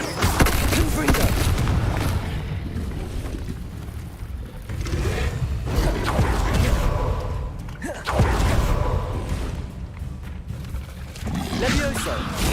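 Confringo fire blast spells exploding in Hogwarts Legacy combat, several loud booming bursts with roaring rumble at intervals, mixed with shouted speech.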